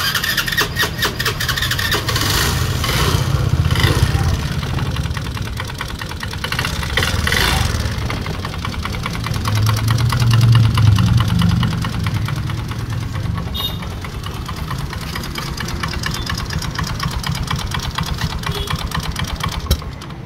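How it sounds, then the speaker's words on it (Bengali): A Honda Grazia 125 BS4 scooter with a misfiring engine starts and runs unevenly at close range, a rapid ragged putter with rising and falling surges of revving over about twenty seconds. "গাড়িটার সাউন্ডটা আমি একবার শুনিয়ে দিচ্ছি স্টার্ট করে।"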